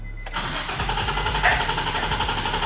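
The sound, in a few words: drift car engine cranking during a compression test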